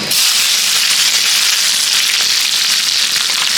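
Sliced onions sizzle loudly and steadily in a hot iron pot for a village-style mutton curry, a dense continuous frying hiss with no talk over it.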